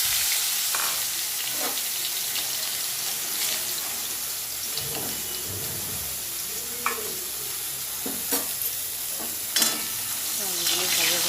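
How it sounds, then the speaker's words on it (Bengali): Potatoes frying in a wok in oil left from frying fish, a steady hiss with occasional stirring clatter and a brief voice in the background. "মাছ ভাজা হয়ে গেছে, এবার আলুগুলো দিয়ে দেবো"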